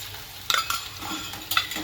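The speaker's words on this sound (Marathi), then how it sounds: "अद्रक लसूण पेस्ट दोन मिनटं ना चांगलं परतून घेणार आहे मी" Ginger garlic paste with reddened onions frying in a pan for chicken biryani, a low sizzle broken by a few sharp scrapes of a spoon stirring against the pan.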